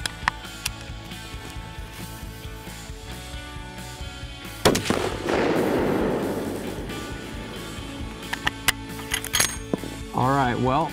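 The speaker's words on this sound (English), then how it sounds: "Well, we just took our first shot," A single sharp rifle shot on a long-range shooting range cracks out loud and close, followed by a rolling, decaying report lasting a few seconds, with quieter clicks and handling noises and a voice speaking around it.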